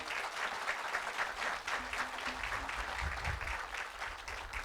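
A ribbon cutting crowd gives a round of applause for state legislators, a steady wash of many hands clapping at a moderate distance, continuous and fairly soft throughout.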